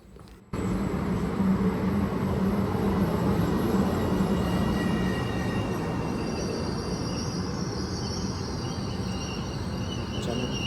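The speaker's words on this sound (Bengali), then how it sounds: "দেখতে দেখতে অপেক্ষা করতে করতে আমার ট্রেন চলে এসেছে।" A passenger train pulls into a station with a continuous heavy rumble of wheels and carriages and faint high squealing tones above it. The sound is loud and near and starts abruptly after a brief quiet opening.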